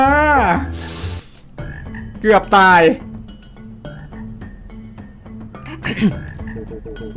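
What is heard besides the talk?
frog enemy croaking in the video game Enchanted Portals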